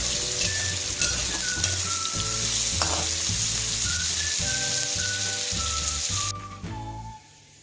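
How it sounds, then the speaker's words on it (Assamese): Sliced onion frying in oil in a pan, a continuous bright sizzle with rhythmic scraping stirs, close and loud, dropping away near the end. "পিঁয়াজখিনিতে অকণমান দেৰি ভাজি ল'ম"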